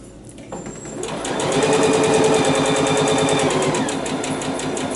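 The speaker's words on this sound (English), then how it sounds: "you're going to sew right along that line on the stocking." Sewing machine stitching along a line on a fabric Christmas stocking, a fast rhythmic mechanical whirring that starts up after a quiet moment and runs steadily close by.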